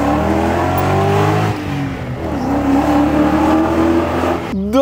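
A BMW 7 Series with a new exhaust and catalytic converters removed revs hard, its loud, raspy engine note holding steady, dipping and climbing again before a sharp final blip, close and dominant throughout.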